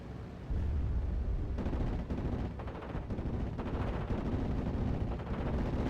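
An artillery barrage pounds a Flak 88 gun position during a World War II match between 101st Airborne and 3. Fallschirmjäger forces, heard as a sustained, dense, distant rumble of overlapping blasts at steady loudness throughout.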